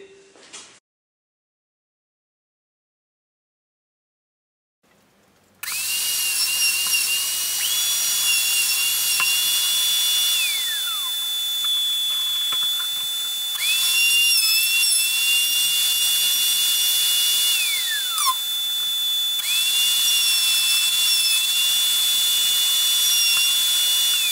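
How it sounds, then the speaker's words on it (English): A power drill bores holes in an MFT router jig for 3/4 inch bench dogs, the high whine running loud and steady in long passes with brief dips between holes, after a few seconds of silence. "We'll do both of these sets of holes"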